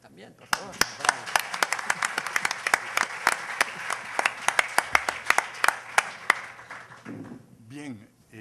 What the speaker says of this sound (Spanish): Y aplauso para él también, por favor.